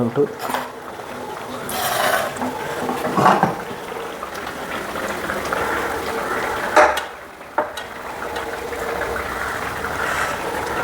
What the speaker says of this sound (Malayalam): നന്നായിട്ട് തിളച്ച് തിളച്ചിട്ടിരിക്കുന്നു എല്ലാം